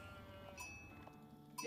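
A sheep bleats faintly in the strategy game Age of Empires IV, a short, wavering animal call over a low background of game ambience.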